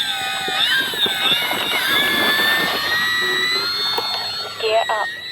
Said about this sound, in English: Here I have the Bearcat from Arrows RC, ready to get up in the air.